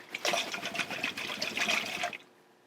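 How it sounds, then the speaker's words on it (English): Wine is shaken inside a nearly empty glass marinara sauce jar, producing a continuous wet sloshing rattle for about two seconds that stops abruptly. The sound is close and moderately loud, with no talking. "pour your wine into the jar and give it a good shake"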